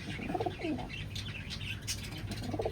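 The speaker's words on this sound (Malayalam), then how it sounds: "മെയിൻ പ്രാവ്" A pet pigeon gives a few soft, close throaty coos in a rainy-season setting, with a brief flutter and light chirps over a steady background hum.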